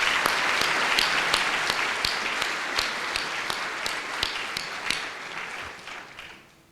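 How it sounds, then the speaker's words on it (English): An audience at a community foundation annual meeting applauds steadily, dense clapping that gradually thins and fades out over several seconds. "another round of applause for them"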